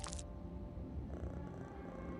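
A cat purrs briefly in the hidden-object game Mystery Case Files 13: Ravenhearst Unlocked, a soft continuous rumble with a short bright chime at the start and no speech.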